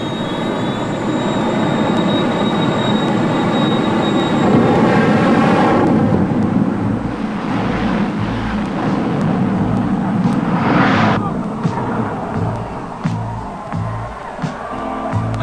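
Jet dragster cars at the 1984 NHRA Winternationals drag races give off a loud, sustained jet-engine roar that swells and holds over a steady crowd and track din, with a sharp hissing blast rising near the middle.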